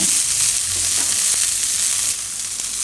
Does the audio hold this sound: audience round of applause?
no